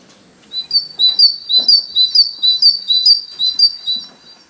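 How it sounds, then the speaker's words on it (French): A great tit sings loud and close, repeating a bright two-note phrase about a dozen times in a steady, see-sawing rhythm. "La mésange charbonnière."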